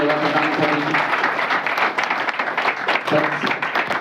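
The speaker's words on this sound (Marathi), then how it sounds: "सर्वांनी जोरदार टाळ्या वाजवा" A crowd claps steadily and densely throughout at an award ceremony, with a voice briefly heard over the applause at the start.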